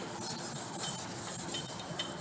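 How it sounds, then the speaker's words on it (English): A new car bumper's face is scuffed by hand before painting, giving a close, steady rasping with several overlapping back-and-forth strokes and no talking. "So you're gonna scuff up that face."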